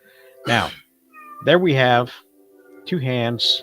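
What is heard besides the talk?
domestic cat meowing in the background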